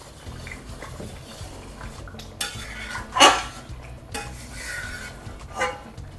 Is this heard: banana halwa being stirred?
yes